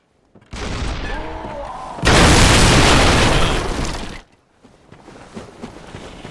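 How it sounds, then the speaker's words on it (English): A cannon fires in Bloodborne, a huge roaring blast that swells after a short rumble and holds for about two seconds before cutting off, followed by quieter game noise. "trying to get the cannon to shoot behind you as you run from building to building."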